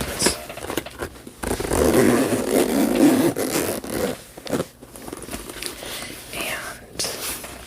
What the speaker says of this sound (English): There's the zipper